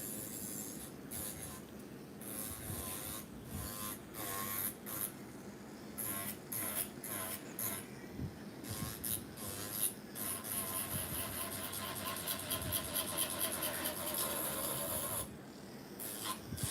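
An electric nail drill set to 5,000 RPM runs steadily up close, a continuous whirring hum with rubbing contact against the nail, broken by short pauses throughout.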